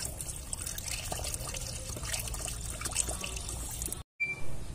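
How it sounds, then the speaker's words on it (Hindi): Water pours steadily into a car radiator with a close, continuous splashing trickle. It cuts out briefly near the end, then resumes. "तो अभी मैं इसमें पानी भर लेता हूँ पहले।"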